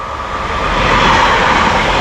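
A train rolls past on a railway, close by, with a loud, continuous rumble and rushing noise that swells slightly as it passes. No voices are heard.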